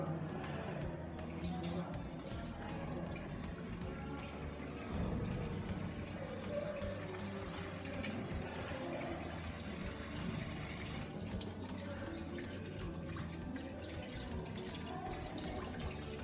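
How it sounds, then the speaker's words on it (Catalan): Steady rush of water from an open tap while hands are washed under it, a constant moderate flow with faint splashing throughout. "Ara em rentaré les mans tenint tota l'estona l'aixeta oberta"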